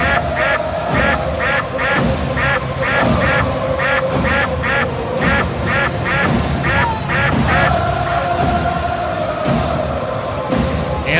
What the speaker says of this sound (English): Ducks all over the pond.